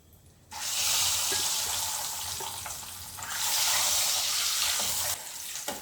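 Eggs dropped into sizzling masala in a kadai for egg pulusu, giving a loud, close frying hiss that flares up, eases slightly and surges again before dropping back near the end.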